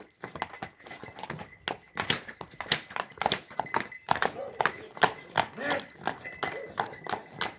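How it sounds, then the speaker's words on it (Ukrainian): A horse's hooves clip-clop in a steady walking rhythm, close and clear, with a person talking over the footsteps. "цікаво йде кінь"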